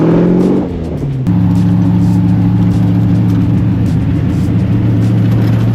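A hot rod with a fabricated stainless header drives along country roads on the edge of Dartmoor, its engine holding a loud, steady low drone after a brief dip in pitch.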